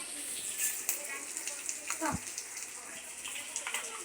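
A spice paste of ground ginger and cumin hits a hot pan for a yogurt pointed-gourd dish, giving a steady, soft sizzle with a brief clatter midway and no talking.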